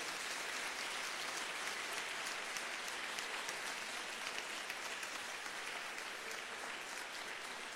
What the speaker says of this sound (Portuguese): dá o melhor aplauso que você tem aí para o Senhor.